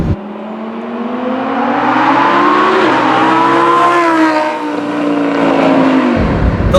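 A Lamborghini Huracan engine pulls hard under sustained acceleration, its loud, steady tone climbing in pitch with brief dips between gears, close and continuous, with no voices.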